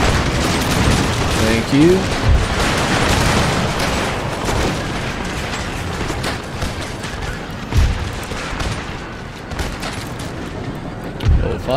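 Musket volleys crackle and boom in Empire Total War battle, scattered gunfire bursts over constant din, with a voice speaking briefly.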